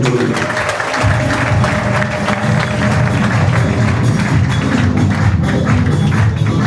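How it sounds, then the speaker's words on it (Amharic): A church congregation at a prophecy and healing service applauds loudly and continuously, a dense wash of clapping that fills the space. "ለእግዚአብሔር ክብር አጨብጭቡለት።"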